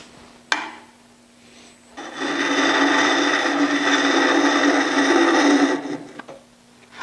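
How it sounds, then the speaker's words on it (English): A wood lathe spins up with a gouge taking a peeling cut on turning wood, giving a steady, loud whirring scrape for several seconds after a sharp click, then winding down to quiet. "I'll turn the lathe on."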